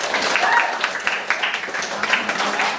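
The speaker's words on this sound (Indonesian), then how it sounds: "Oke, tepuk tangan kita." Schoolchildren in a classroom clapping their hands together in a quick burst of uneven applause, fairly close, with voices mixed in among the claps.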